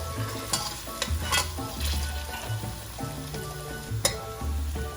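Onion, garlic and cumin frying in a pan for Trinidad-style pumpkin, a steady close sizzle broken by repeated stirring scrapes and light utensil taps, no talking.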